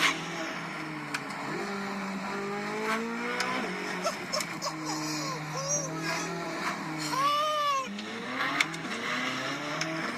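A 2023 Chevrolet C8 Corvette Z06 accelerates hard, its engine note rising and dropping through several manual-mode gear shifts. The loud, close revving runs under excited voices.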